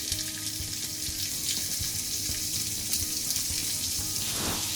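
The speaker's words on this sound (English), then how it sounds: "The cumins are spluttering, so we add in the onions" Onions and cumin seeds frying in two tablespoons of hot olive oil give a loud, continuous close-up sizzle and crackle, with a brief splashy burst near the end and no voices.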